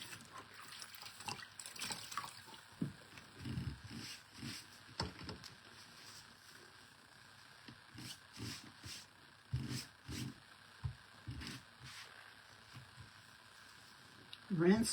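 A brush or board eraser is swished and rinsed in a tub of water to clear out chalk paste, giving faint, intermittent splashes and trickles while a person talks.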